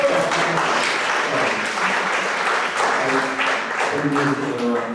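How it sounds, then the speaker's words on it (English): An audience applauds steadily for several seconds in a gathering, a dense, sustained clatter of many hands with no voices over it. "You want to clap? You can clap."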